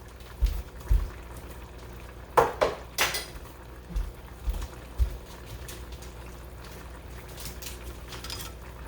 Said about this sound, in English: Give this some more stir.